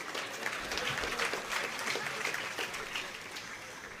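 An audience at a Telugu public speech claps in a brief, faint burst of steady applause lasting about four seconds, with no talk over it.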